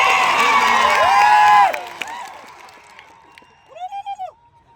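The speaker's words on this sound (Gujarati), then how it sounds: "આ ઓરિજિનલ આદિવાસીઓની ભીડ જોઈ લો" A crowd of Adivasi people cheers and shouts at a rally, a loud burst of massed voices and whoops that drops away after a couple of seconds, followed by quieter scattered calls and a brief rising cry.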